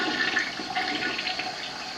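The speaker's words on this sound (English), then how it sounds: "The commode is siphoning just a little slow today." A slow-siphoning toilet in a 1980s Dallas condo bathroom flushes with a steady rushing, gurgling water sound, moderately loud and close, with no talking.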